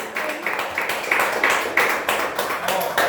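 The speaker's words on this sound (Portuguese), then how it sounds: "E as palmas são para o nosso Senhor, amém?" A church congregation claps in a steady rhythm during a worship service, with bright, evenly spaced hand claps filling the room at moderate loudness.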